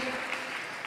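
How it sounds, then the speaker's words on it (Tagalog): A church congregation breaks into loud, steady applause during a preaching service, a dense continuous wash of clapping that fills the whole short moment. "May malakas sa palakpak para sa ating dakilang Diyos."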